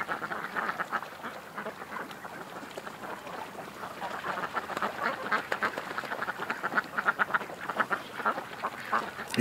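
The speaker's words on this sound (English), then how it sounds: "The little ducks down at the lake," A flock of small ducks at a lake quacks almost continuously, with overlapping calls from several birds at moderate distance and no talking.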